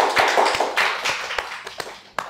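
Audience applause at a Marathi comedy interview, a burst of scattered hand claps with sharp individual taps that thins out and fades over a couple of seconds.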